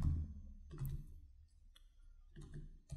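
Clicky computer keyboard keys tapped in short bursts while typing code, with a few quick clusters of keystrokes separated by brief pauses, close and moderately loud.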